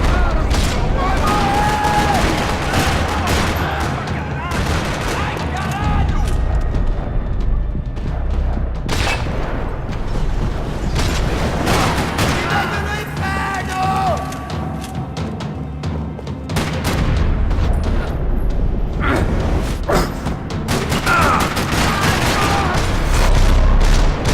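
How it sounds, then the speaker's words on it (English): Heavy gunfire in a parking lot during a Max Payne 3 shootout, rapid bursts and booming shots overlapping almost continuously, with loud impacts and a brief shouted voice among the chaos. "Another parking lot rattling with gunfire."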